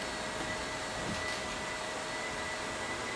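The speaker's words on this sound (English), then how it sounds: "That's the vacuum cleaner." A household vacuum cleaner runs indoors over carpet, a steady, even whine and rush that holds at one level for a few seconds, fairly close and with no talk over it.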